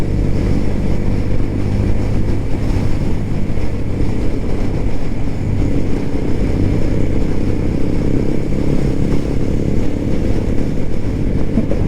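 Motorcycles on a Sunday group ride roll past, including a Hero Xtreme 125R carrying two riders, heard as a loud, continuous low engine drone and road rumble that holds steady throughout, with no voices.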